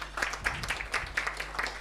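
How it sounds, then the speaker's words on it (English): An audience at an influencer marketing and social commerce launch event claps in a brief burst of moderately loud applause, irregular hand claps close together. "Let's give them a round of applause"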